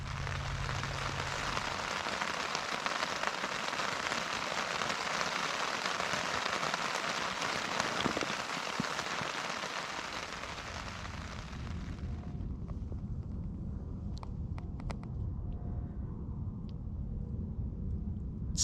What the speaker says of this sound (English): Raindrops on a tent fly.